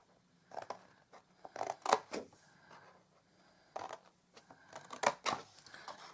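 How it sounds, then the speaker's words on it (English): Scissors cut the bottom flaps of a hand-stamped paper box, making quiet, close snips and crisp crunches in short bursts separated by pauses, with no talking. "So we cut up these flaps at the bottom."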